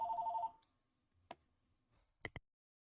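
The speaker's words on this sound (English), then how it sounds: "sorry about that phone call and all that" A telephone rings with a short electronic warble at the start, then stops. A few sharp clicks and knocks follow in an otherwise quiet room.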